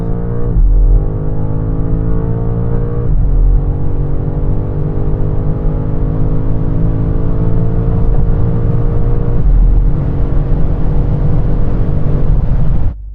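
New BMW M5 accelerating off the line in a drag race, a loud close engine drone climbing through gears with two brief shift dips, then cutting off sharply at the end.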